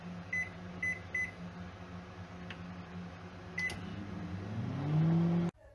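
A microwave oven running with a cup of rice covered by a heavy plate, a steady low hum with a few soft beeps early on and the drone rising in pitch before cutting off abruptly.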